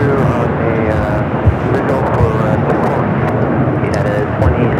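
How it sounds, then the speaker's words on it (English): An airliner arriving at Los Angeles LAX from Tokyo Haneda on flight 26 roars steadily and loudly, a dense, constant engine wash that holds level throughout. "Here on the north side, the flight comes from Tokyo Haneda,"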